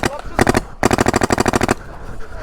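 Paintball markers fire rapid bursts of cover fire outdoors, a short three-shot burst followed by a longer fast string of about a dozen sharp pops, loud and close, with voices around them.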